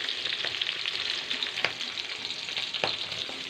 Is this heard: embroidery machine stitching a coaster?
no